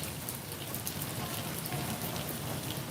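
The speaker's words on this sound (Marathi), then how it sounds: "देगलूरला चांगल्याच असे पावसाची सुरुवात या ठिकाणी झालेली आहे" Rain begins falling in Deglur, a steady close hiss of drops pattering on surfaces with no voices.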